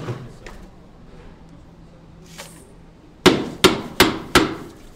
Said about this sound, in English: Jesus Mayo and Andres Batista are hammering ice with a mallet.